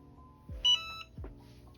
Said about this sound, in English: now that you hear the beep